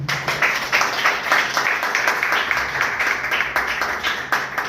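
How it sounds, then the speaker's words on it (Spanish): Applause from a church congregation fills the space, a dense steady wash of many hands clapping together for several seconds with no break, close and fairly loud. "Den un aplauso al Señor."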